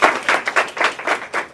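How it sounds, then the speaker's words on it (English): An audience claps at a media talk as a speaker is welcomed, in a brief, loud burst of close, sharp hand claps with an uneven rhythm. "let's all applaud for Tressa Eaton"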